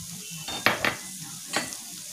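Ginger paste sizzles in hot oil with fried onion in a pan, a steady near crackle broken by a few sharp scraping stirs of a spatula against the pan.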